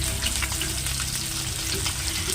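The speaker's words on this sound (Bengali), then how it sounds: "এদিকে মাছটা ভাজা হচ্ছে" Fish fries in fresh oil in a kadai, a dense, loud, continuous sizzle with faint spitting and a low steady hum underneath, close up and without speech.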